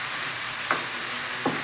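Meat frying in a pan with seven spices keeps up a steady bright sizzle, while two brief scraping strokes of a spatula stir it about a second apart, close and clear with no voices.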